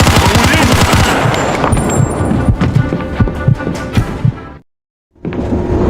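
Loud, close machine gun fire in the Mafia II video game: dense rapid bursts, then scattered shots, a sudden silence of about half a second, then noise resumes.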